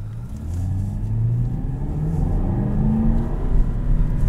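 A 2021 Aston Martin DBX engine revs under acceleration, climbing to about 4,000 RPM with a deep, rising, rumbling drone heard loudly from inside the cabin.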